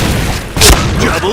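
A bomb explodes in a first-person shooter game, a loud booming blast that cuts through the surrounding game sounds.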